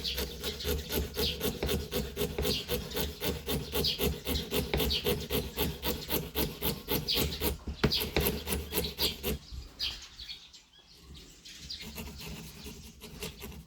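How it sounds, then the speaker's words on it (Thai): A small hand saw cutting metal rasps in fast, even back-and-forth strokes, close and loud, then slows and fades to quieter scraping near the end. "เลื่อยนะครับเลื่อยให้มัน ให้มันเหลือเส้นไว้นะเลื่อยข้างในเส้น"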